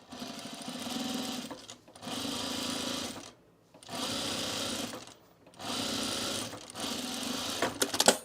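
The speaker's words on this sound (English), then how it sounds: "I'm going to edge stitch it down." A sewing machine edge stitches a trouser pocket down, whirring in four even, sustained runs separated by brief pauses, close and steady with no voices.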